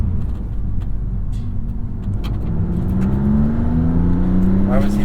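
A 2022 Maserati MC20 accelerates from inside the cabin, its engine tone climbing steadily over a low rumble with a faint turbo whistle, while occupants talk.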